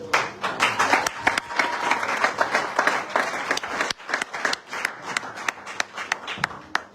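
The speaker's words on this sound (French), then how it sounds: "Est-ce qu'on peut acclamer?" A church congregation breaks into sustained applause, dense overlapping clapping with sharp individual claps standing out, filling the room at steady loudness for several seconds.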